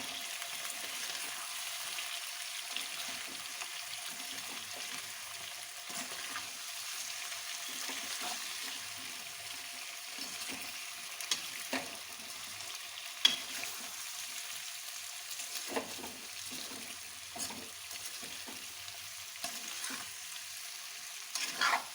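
Spiced potatoes with Kashmiri red chilli frying in a pan, a steady broadband sizzle with intermittent scraping stir strokes, close and moderately loud, no voices.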